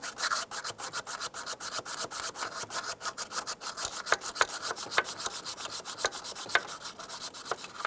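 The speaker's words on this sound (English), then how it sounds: "I want to lightly sand the surface of the aluminum here" Light hand sanding on the aluminum EGR valve mounting surface of a 2005-2010 Chrysler 300, a steady rapid back-and-forth scratchy rasp, close and continuous with no talking.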